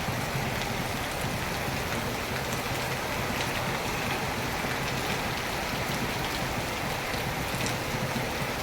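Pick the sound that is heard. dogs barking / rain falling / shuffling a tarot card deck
rain falling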